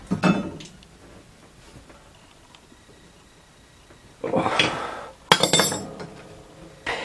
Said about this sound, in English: I'm gonna grab a wrench here.